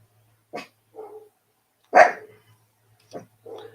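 A big dog barks several times at uneven intervals, fairly close and loud, with quieter lower follow-up sounds between the barks and no talking.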